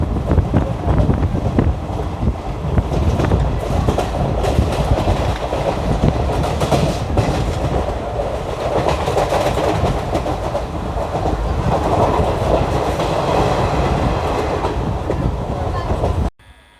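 Heard from on board, an Indian Railways express train picks up speed on a line toward Meerut Junction, a loud, steady rumble with rail clatter and wind buffeting that cuts off abruptly at the end.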